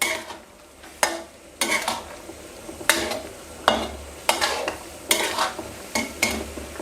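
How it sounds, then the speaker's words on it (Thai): Eggplant being stirred and tossed in a hot pot of Thai jungle curry with soft-bone pork, giving repeated scraping and clanking spoon strokes over a soft bubbling simmer, close and steady. "พอใส่ลงไปแล้ว คนคลุกเคล้าให้เข้ากันครับ ให้มะเขือโดนความร้อนทั่ว ๆ"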